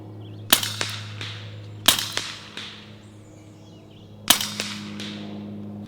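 Air rifle firing hybrid pellets at a target roughly 100 yards out: three sharp cracks spaced a couple of seconds apart, each trailed by a quick second snap and a fading echo over a steady low hum.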